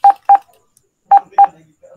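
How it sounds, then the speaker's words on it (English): A Kongsberg ship engine room simulator sounds its alarm as four loud, clipped electronic beeps in two evenly spaced pairs, close and alone. "So there's an alarm."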